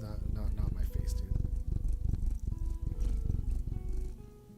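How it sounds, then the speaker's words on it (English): A cat purring close to the microphone, a low continuous rumbling throb that pulses steadily for several seconds while a person speaks softly over it. "I don't know if you can hear him purr."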